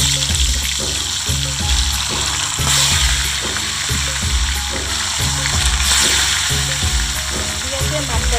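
Fish frying in hot oil on a stove, a steady broadband sizzle running continuously under a low rhythmic background hum, close and fairly loud throughout.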